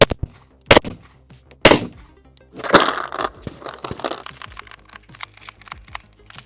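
A Sig P365 XMacro pistol fires at a target while being zeroed, giving three or four sharp, loud cracks a second apart, followed by a jumble of fainter rattles and clatter.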